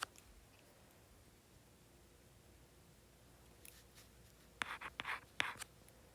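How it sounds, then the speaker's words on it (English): A pencil scratching on paper in short bursts of strokes after a quiet stretch, faint and close, with no talking. "Hold on, my pencil doesn't want to write."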